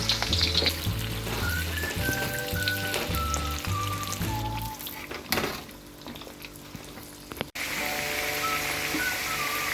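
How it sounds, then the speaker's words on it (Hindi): Potato pieces frying in oil in a kadhai for dahi aloo masala, a continuous crackling sizzle with clinks of stirring and a melodic music track running underneath. "इस वाले भी आलू मैं इसमें इसी तरह शामिल कर लूँगी कढ़ाई में और इनको फ्राई कर लूँगी।"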